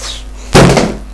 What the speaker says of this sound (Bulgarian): Столът ми падна.